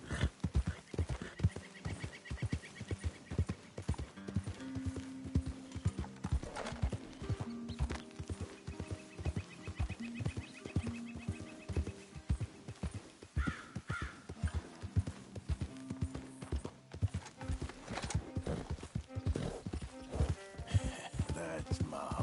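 Horse hooves pound in a fast, steady galloping rhythm throughout Red Dead Redemption 2, with occasional snorts, a whinny and distant crow caws over the gameplay soundscape.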